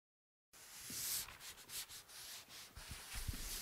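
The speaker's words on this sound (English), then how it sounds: "The rubber center edge of the magic corner is sanded clean and is ready for painting." Sanding along the rubber center edge of a Trim-Tex Magic Corner drywall expansion bead on an inside corner, a series of close, scratchy rubbing strokes with irregular rhythm, heard alone without talk.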